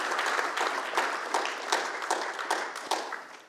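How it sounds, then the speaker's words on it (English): Brief round of applause from an audience at a trucking industry convention panel, moderately loud with distinct claps standing out from a dense, steady patter, continuous throughout. "Round of applause, please."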